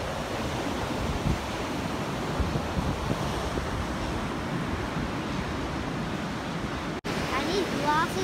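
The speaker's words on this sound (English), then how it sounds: "The wave water is splashing on us." Ocean surf washes and splashes continuously in a broad roar on the coast near Cathedral Cove, Hahei, New Zealand, mixed with gusty wind against the microphone.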